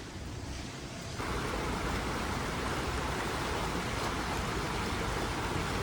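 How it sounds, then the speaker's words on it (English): Steady rain pours down during a long wet spell while travelling in Japan, a dense hiss that swells slightly louder after the first second and continues unbroken without talk. "It's literally been raining non-stop for 3 days."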